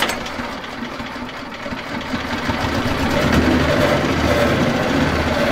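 A petrol garden wood chipper with a 6.5 hp engine runs nearby with a steady, rattling mechanical drone that swells slightly louder as it goes on.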